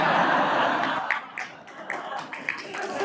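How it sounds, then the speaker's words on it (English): Audience applause at a talk about choosing a path to power for good, a steady wash of clapping that thins out, with scattered laughter and a few voices breaking through. "hold those applause"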